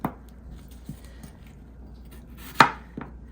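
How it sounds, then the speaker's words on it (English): Potatoes being cut into quarter-inch slices with a knife on a board, a few soft chops spaced apart over a low background hum. One sharper, louder knock comes near the end. "I'm cutting these potatoes about 1/4 inch thick."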